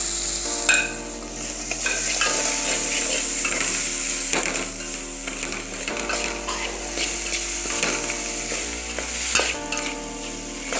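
Potatoes sizzle and fry in a pan for a spinach and potato curry, with a continuous hiss broken by clattering stirring strokes, close and fairly loud over light background music.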